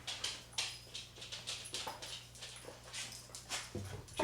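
Pet dog in a kitchen giving soft, repeated whimpers and small whines at an uneven pace, faint and close, over a low steady hum with some clatter.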